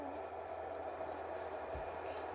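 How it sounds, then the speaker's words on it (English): A Breville electric kettle rumbles and hisses steadily as water comes to a boil, continuous and fairly quiet, with a brief low thump partway through. "As you can hear, it's boiling."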